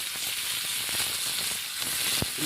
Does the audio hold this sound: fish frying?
yes